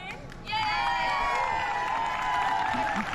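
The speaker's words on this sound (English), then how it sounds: "Everyone's clapping." An audience at a roller derby award show, after the Harbour Cup '23 game between RRD Death Row Honeys and Ruhrpott Roller Derby, bursts into sustained clapping and cheering that swells suddenly and stays loud, with whistles and voices mixed in.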